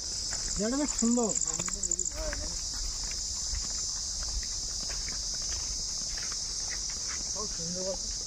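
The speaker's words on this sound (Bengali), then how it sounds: "ঝিঝি পোকার আওয়াজ এইখানটা এতটা গভীর ঝিঝি পোকার আওয়াজ" Crickets chirp in a dense forest near Bangalore as a continuous high, shrill drone. Nearby footsteps and scattered speech-like voices run beneath it.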